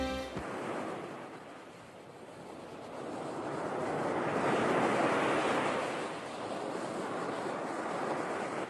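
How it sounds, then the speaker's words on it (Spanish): Sea waves wash onto the shore at Playita, Cuba, a steady broadband roar that swells to a peak midway and then eases, with some wind buffeting, close and continuous with no voices. "Ya tú ves este mar donde estamos nosotros ahora."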